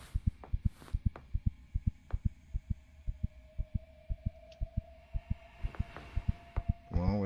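Steady video-game heartbeat thumping in a regular double-beat rhythm throughout, loud and close, over a low hum, with a brief burst of another sound at the very end.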